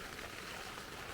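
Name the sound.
rain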